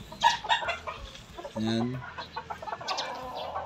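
Hens on a small backyard farm clucking in short bursts, with a louder sustained squawk in the middle and fowl calls scattered throughout, while someone talks nearby.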